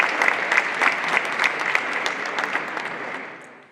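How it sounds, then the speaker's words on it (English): An audience claps loudly and steadily for a few seconds, then the applause tapers off toward the end. "Let's give them another round of applause."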